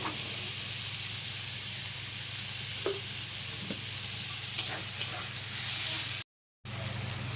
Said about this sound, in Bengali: টমেটো কুচিটা দিয়েও এবার ভালো করে ভেজে নেবো